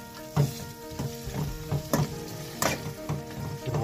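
Tomato sautéing in a pan for rasam, a soft sizzle broken by several clattering stirs and taps against the pan, close and without voices.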